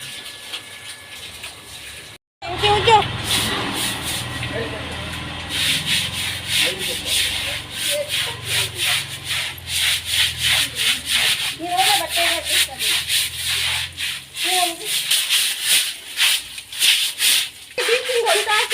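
Scrubbing by hand at home, most likely cloth being rubbed, makes a steady run of quick, rhythmic rasping strokes close by after a brief silence. A voice is heard now and then among the strokes.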